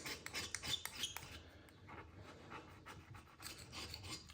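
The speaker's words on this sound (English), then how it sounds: "use a standing knife just to scrape off the excess silicone there" A Stanley knife scrapes excess silicone off a central heating pump at a boiler, giving quiet, close, repeated short rasping strokes in an irregular rhythm.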